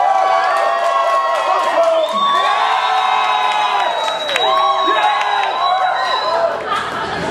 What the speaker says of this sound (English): give the amount of applause for your favorite